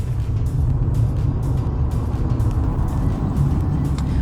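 A Mercedes-Benz EQA 250 electric car with 190 horsepower accelerates, giving a steady loud low rumble of road and tyre noise from inside the cabin, with no voices.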